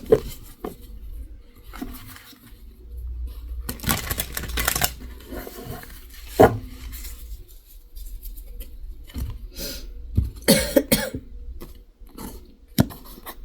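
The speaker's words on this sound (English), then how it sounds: "it's never-ending cough" Several harsh coughs come in scattered bursts, with a quick cluster in the middle and later, separated by quiet rustling.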